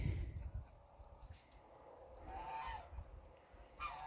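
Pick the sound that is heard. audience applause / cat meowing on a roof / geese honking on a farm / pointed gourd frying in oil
geese honking on a farm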